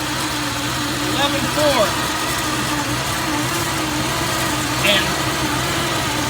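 A 1988 Chevrolet Corvette engine idles steadily after a restart, a low continuous hum running the whole time beneath brief bits of nearby talk.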